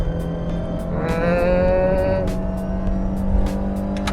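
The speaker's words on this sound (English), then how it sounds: "That's a throaty exhaust note from this Forester." A 2024 Subaru Forester GT accelerates in second gear in manual mode, its engine note climbing in pitch and loudness from inside the cabin before it drops off at a gear change, then settles into a lower hum.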